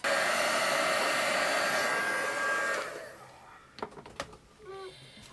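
A hair dryer blows steadily on a mixed media strawberry boot house craft piece for about three seconds, then cuts off, followed by a few sharp clicks and light handling noises.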